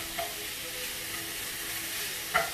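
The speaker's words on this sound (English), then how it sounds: "And get this browned up. Use my spatula to break it up." Ground meat browning in a pan for stuffed bell peppers, a steady soft sizzle with a couple of faint spatula scrapes as it is broken up, close and fairly quiet.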